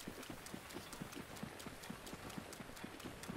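Horse hooves clip-clop in Zelda Breath of the Wild, a quick, regular run of hollow hoofbeats at even pace, moderately close and quiet, with no talking.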